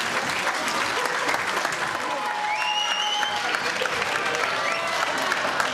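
Loud, dense audience applause fills a hall at a regional research award event in Cattenom, steady throughout, with faint whistles and cheers and some crowd voices mixed in.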